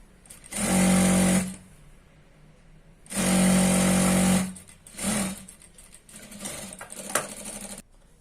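A sewing machine stitches a churidar pant hem in two long, loud bursts of steady whirring with a brief third run, the pauses between them filled with quiet handling and small clicks.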